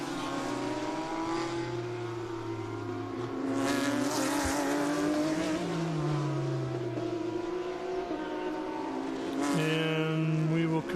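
A KTM GT4 race car circles the track at VIR during a racing weekend. Its loud engine note rises and falls through gear changes, with other cars droning nearby and a sharp rev swell near the end.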